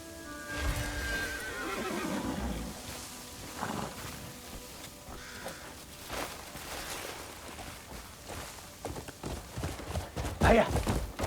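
A horse whinnies near the start in the video game Crimson Desert, followed by scattered clopping hooves and game-like effects, with a brief sharp neigh-like burst near the end.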